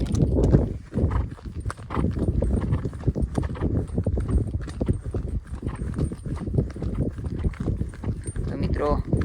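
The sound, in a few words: horse (mare) hooves walking, being driven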